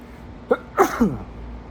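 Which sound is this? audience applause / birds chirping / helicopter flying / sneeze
sneeze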